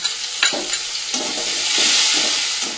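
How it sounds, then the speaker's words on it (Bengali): Tomato fries in a pan with ginger, green chilli and chopped coriander, a continuous close sizzle with a few sharp scraping strokes of a spatula near the start. "টমেটোটা ভাজা ভাজা হয়ে গেছে। এর মধ্যে দিয়ে দেবো আদা, কাঁচা লঙ্কা, ধনে পাতা"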